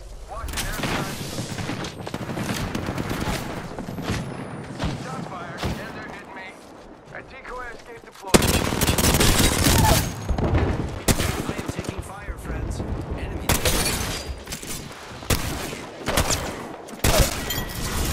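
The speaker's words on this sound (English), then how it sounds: "Set shots fired. And they're hitting me." Gunfire in the Apex Legends battle royale game, likely a Mastiff shotgun among other weapons, crackles in dense repeated bursts and volleys for most of the stretch, loud and close, with a short quieter lull midway and speech mixed in.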